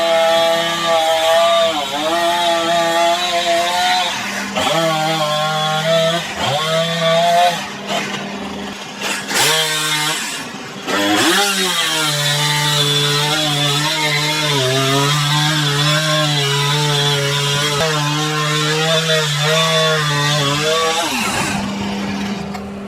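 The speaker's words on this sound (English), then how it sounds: "I'll get the chainsaw out and saw some of them big limbs off" A chainsaw cutting big limbs off a fallen tree, its engine droning loud and steady with pitch dips and surges as the blade bites into the wood, running throughout.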